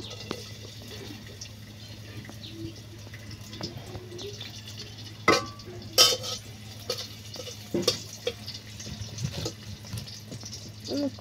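Chopped onion drops into hot oil in a home kitchen and sizzles softly and steadily, with a low background hum and a few sharp utensil clatters and knocks.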